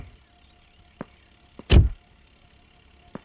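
A car door slams shut once, loud and close, amid a quiet setting with a few faint clicks before and after.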